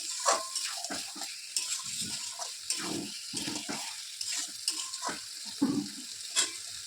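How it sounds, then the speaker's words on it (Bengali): Marinated meat is sautéed in a pan with a close sizzle punctuated by frequent, rhythmic scraping and stirring strokes, each stroke bringing a short burst of louder crackle. "কষানো হচ্ছে মাংসটা।"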